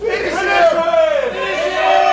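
Crowd at a Wrestle Club Operation Airborne 2018 pro wrestling match roars and cheers steadily throughout, with a commentator talking over the noise.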